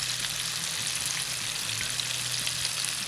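Small pieces of chicken frying in a pan for zinger wraps, making a dense, even sizzle of fine crackling that stays steady and close with no talking.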